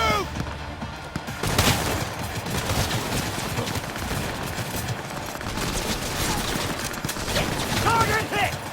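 Rapid gunfire rattles in dense bursts in the game Cyberpunk 2077, loud and close, with impacts and clatter mixed in and voices shouting over the shooting.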